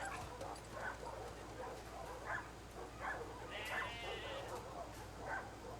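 Bear, a dog in The Last of Us Part II, gives a series of short barks and yips spaced about every second, under a person talking over faint game ambience.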